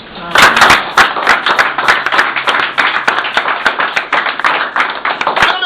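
A church congregation claps loudly and rhythmically, with fast, overlapping hand claps keeping a steady beat throughout, as in lively worship.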